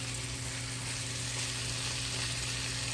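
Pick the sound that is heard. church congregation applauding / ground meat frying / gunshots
ground meat frying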